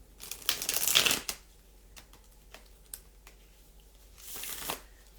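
Tarot cards being shuffled at a collective reading, a fast riffle burst early on, then scattered soft card taps and a second shorter shuffle near the end, fairly quiet and close with no talking.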